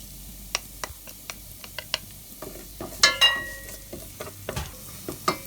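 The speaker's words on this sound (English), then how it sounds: "Let's fry this for 30 seconds." Chili flakes fried and stirred in a pan for a kale mallum, with a low constant sizzle broken by repeated sharp spoon-on-pan clicks and scrapes, a louder clatter midway.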